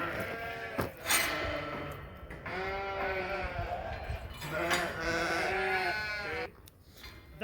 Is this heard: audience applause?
no